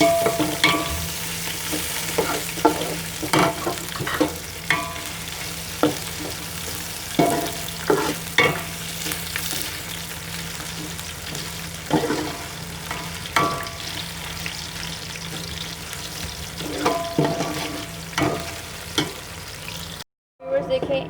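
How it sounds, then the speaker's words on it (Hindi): Ginger garlic paste fries in a pan with onion for haleem, sizzling steadily while a spoon scrapes and stirs in frequent irregular strokes, close and fairly loud, with a brief cut of silence near the end. "अब मैं इसमें लहसुन अदरक का पेस्ट ऐड कर रही हूँ।"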